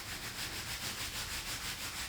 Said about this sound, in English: notice that I'm rubbing on the side of the wool